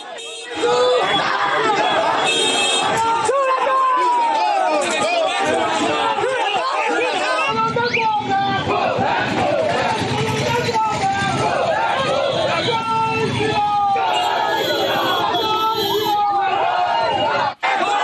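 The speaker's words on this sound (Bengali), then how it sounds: "সুকান্ত মজুমদারের গাড়ি ঘিরে বিক্ষোভ গো ব্যাক স্লোগান" Protesters chant 'go back' slogans while surrounding the car of minister Sukanta Majumdar. The loud, dense crowd shouts close by with overlapping voices, and the din continues almost without a break.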